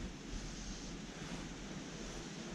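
Continuous wind roars and buffets the microphone beside the River Yeo, a steady broadband rush with no speech.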